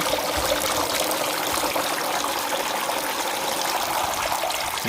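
A small homemade water fountain runs steadily, a continuous close trickling and splashing flow of water with no break from start to finish.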